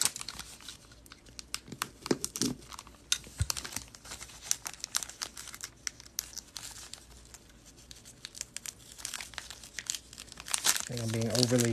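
Plastic trading card pack being cut open during a card break, with crinkling and tearing wrapper sounds throughout, close and fairly quiet, under someone talking.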